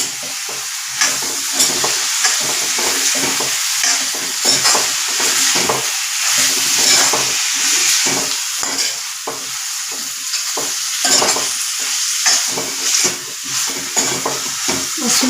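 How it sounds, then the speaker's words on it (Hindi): Moth beans (matki) fry in a hot pan for masala matki, with a constant sizzle broken by repeated scraping stirs of a spoon at an uneven rhythm, close and fairly loud. "अब उसमें हम मटकी डालेंगे। अच्छे से मिक्स कर लेंगे।"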